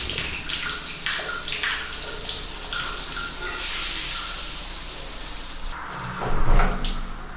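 A faucet in a typhoon-proof apartment runs hard at strong pressure, a loud, close, continuous gush of splashing water, with a brief heavier thud and surge of water noise near the end.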